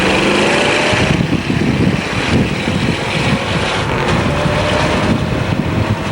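Hot car flying fast down Kipling in Etobicoke, its engine droning steadily and loud from start to finish with wind rush over it, heard from inside the car and with no talking.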